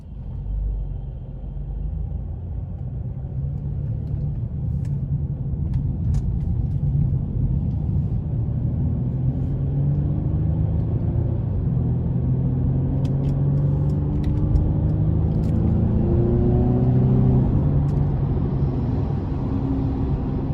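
A 2017 Mercedes-Benz C300 Sport car drives and accelerates, its steady engine drone and road rumble rising in pitch as it gains speed, heard loud and continuous from inside the cabin.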